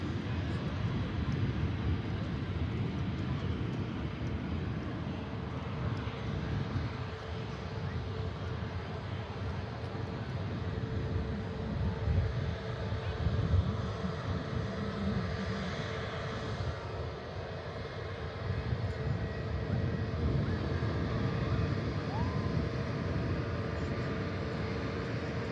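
A Virgin airliner taxiing at an airport, heard as a steady, fairly loud jet engine rumble and whine lasting throughout, with broad low-frequency roar and no distinct breaks.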